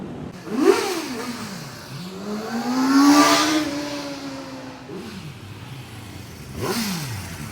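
A 450RR sport motorcycle engine revs hard in three bursts, pitch sweeping up and falling back between them, the middle rev longest and loudest.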